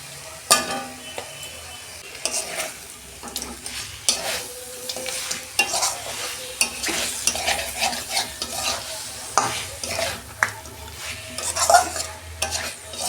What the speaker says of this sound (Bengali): দেখুন বন্ধুরা, মশলা থেকে তেল ছেড়ে গেছে, মাছগুলো দিয়ে দিচ্ছি।